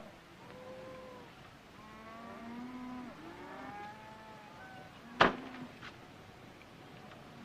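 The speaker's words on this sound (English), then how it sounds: "Nick, if just one of those sick cattle get loose." Several low, drawn-out moos from sick cattle overlap across a lowing herd, followed by a sharp clattering bang near the end.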